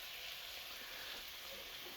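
Sausage browns in a pan with a continuous, even sizzle and crackle, steady and moderately close with no voices.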